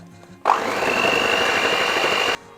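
An electric mixer whisks eggs with sugar, vanilla sugar and a pinch of salt, giving a loud, steady motor whir close up that starts abruptly, runs for about two seconds and cuts off.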